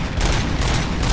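Dense, loud gunfire in the video game RoboCop: Rogue City, a continuous rapid fusillade of overlapping shots with no breaks.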